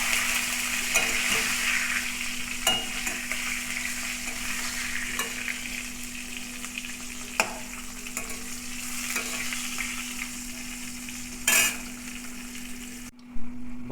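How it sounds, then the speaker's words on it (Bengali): Eggplant pieces dusted with turmeric fry in oil in a pan, a steady close sizzle broken by the occasional scrape and knock of a stirring utensil. "বেগুনগুলো একটু ভেজে নেব।"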